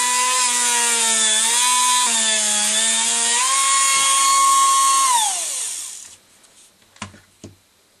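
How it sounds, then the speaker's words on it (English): A power sanding tool shapes a small piece, a loud steady whine that shifts pitch as the piece is pressed and moved, then winds down and stops, followed by a few quiet knocks. "what I'm going to do is just sand it"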